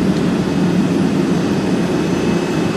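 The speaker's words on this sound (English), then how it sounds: "Just turn the key and it fires up." A 1963 Chrysler Turbine Car's turbine engine runs at a steady, loud whine with a continuous jet-like roar and low rumble, unbroken throughout.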